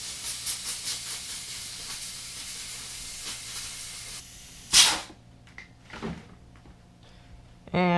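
Compressed air blasts a Suzuki DR-Z400S motorcycle air filter in a short, loud hissing burst, followed by a fainter second puff and a final strong blast, with quiet workshop sounds between.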